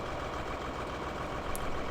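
Tractor engine in Farming Simulator 2013, used to compact chaff on a dairy farm: a steady, close, broadband mechanical drone with a rumbling low end, running evenly without pause and with no voices over it.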